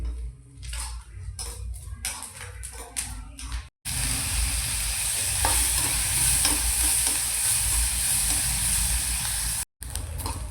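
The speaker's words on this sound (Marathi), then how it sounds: "तर आपला कांदा अशा प्रकारे लाल लाल लाल भाजून घ्यायचा आहे." Onion roasting in a pan until reddish brown for a chicken curry paste, first with clustered stirring clatter, then a loud, dense, steady sizzle close by, broken by two short silent gaps.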